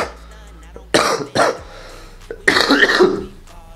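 A man coughs and clears his throat in a few harsh bursts, close and fairly loud, with short quiet gaps between them.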